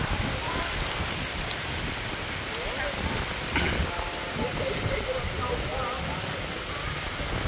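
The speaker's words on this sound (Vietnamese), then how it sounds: "Quá trời mưa rồi cô chú anh chị ơi." Heavy rain pours down steadily with gusting wind at a riverside bridge during a storm, a dense continuous wash of noise close by, with people talking faintly underneath.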